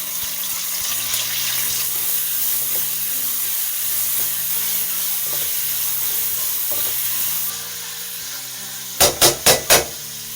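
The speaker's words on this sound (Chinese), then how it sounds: "油热，放入肉馅儿" Minced meat sizzles and fries in hot oil in a wok, a steady loud hiss lasting several seconds, then a softer stretch ending in four sharp, rapid metallic clacks of a spatula against the pan.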